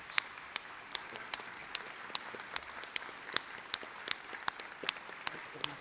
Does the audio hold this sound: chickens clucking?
no